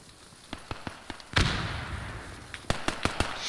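Sniper rifle fire in the World War II shooter Post Scriptum: a string of sharp, distant cracks with one loud close shot and a ringing tail in the middle, followed by more rapid cracks.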